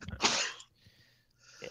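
One sharp, close sneeze bursts out at the start, followed by quiet breathy sounds and a faint word.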